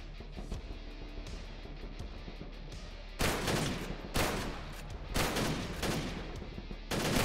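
Machine gun fire in TrenchPunk, a Wolfenstein 3D-inspired indie first-person shooter, arrives as several loud broadband bursts in the second half, following a quieter stretch of game ambience, with no talk.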